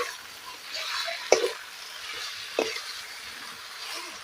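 Duck meat coated with turmeric and salt being stirred in a pan for an Assamese duck curry, giving a soft steady sizzle broken by a couple of sharp clanks of the utensil against the pan.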